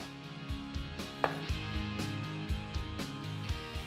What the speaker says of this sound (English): You just wanna chop it up roughly.